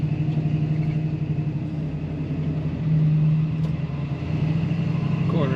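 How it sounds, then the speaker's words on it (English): A 1966 Ford Mustang Fastback 2+2's engine droning and then surging as its automatic transmission kicks down, a low steady rumble that swells midway, heard from inside the car with road noise. "There's the kick down on the automatic transmission."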